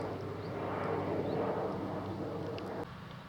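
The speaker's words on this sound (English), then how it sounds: "the noise of the M40 has completely gone now, just to be replaced, as you can hear, by the odd light plane." A light aircraft drones steadily overhead in open countryside near a village, a continuous broad engine hum that holds at moderate level and drops slightly near the end, with no talking.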